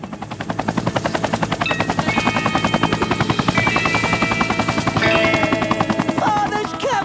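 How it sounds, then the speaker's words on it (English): A cartoon company helicopter drones with a fast, steady rotor chop that stays loud and close for several seconds, with brief whistling effects layered over the thumping beat. "Father's company chopper!"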